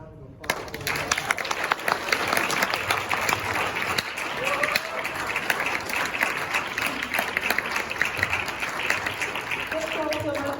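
A live audience breaks into sustained applause for composers and filmmakers at an artist panel, dense clapping filling the room for about ten seconds with a few voices murmuring underneath.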